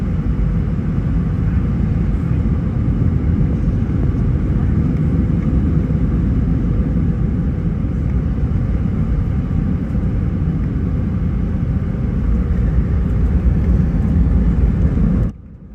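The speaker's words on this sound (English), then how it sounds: "These 2 Delta planes landing at the exact same time at an airport in Atlanta." Two Delta airliners landing at the same time at Atlanta airport, a steady loud engine roar and low rumble holding evenly throughout and cutting off abruptly at the very end.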